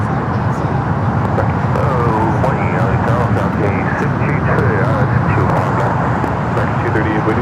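A jet airliner roars steadily on departure from Los Angeles airport's south side, loud and sustained with a broad rumble, while talk carries on over it.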